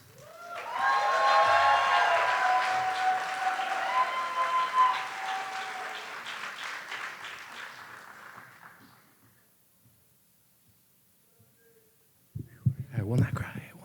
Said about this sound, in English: Please give a warm round of applause to Dave DeVost.